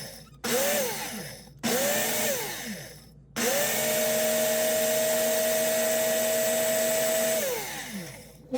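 An electric grinder powders dehydrated shallots. The motor whirs loudly up to speed in two short pulses, then runs in one longer burst of several seconds before it winds down.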